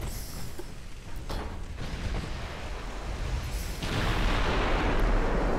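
Naval gunfire in the warship game Ultimate Admiral Dreadnoughts, a dense rumbling wash of distant cannon booms and explosions that swells louder toward the end, with no talking.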